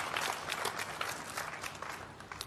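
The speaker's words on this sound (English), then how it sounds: "May I please ask that we applaud those individuals who worked tirelessly to make this possible." Audience applause at a formal launch ceremony, a steady patter of many hands clapping at moderate distance, heard alone for a couple of seconds.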